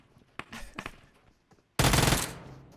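A few scattered shots in PUBG Mobile, then a loud burst of automatic gunfire erupts close up and continues to the end.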